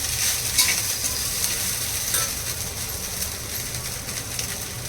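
Food roasting in a pan for a fasting misal: a constant crackling sizzle close by with soft intermittent stirring, steady in level throughout, with no voices.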